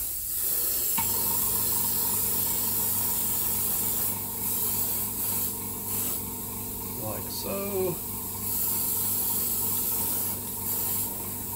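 An airbrush sprays a light tack coat of paint onto a 1/24 scale model in a continuous close hiss, with faint handling noises and a short squeak partway through.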